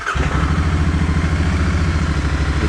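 Royal Enfield Continental GT 650 parallel-twin motorcycle engine cranks and catches within a fraction of a second, then settles into a steady, loud, close rumbling idle with an even pulsing beat.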